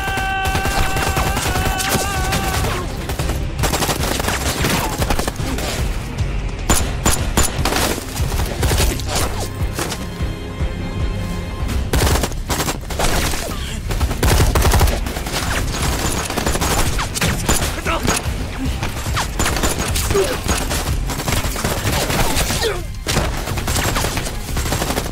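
Rifle gunfire in an action film fight scene, dense bursts of shots and automatic fire layered over a loud, busy soundtrack with continuous music and impacts throughout.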